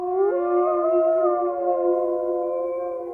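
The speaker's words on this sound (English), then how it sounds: "Suddenly, they heard a terrifying sound, a howl in the darkness down the hill." A long, sustained howl like a wolf's rings out loud and alone in the dark below a hill, holding a steady pitch with a slight rise at the start and fading gently at the end.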